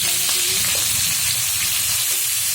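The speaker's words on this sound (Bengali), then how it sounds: "তাড়াতাড়ি ভেজে নেব।" Green banana and eggs sizzle steadily in a frying pan, a continuous bright crackling hiss with faint stirring clicks, close and alone without talk.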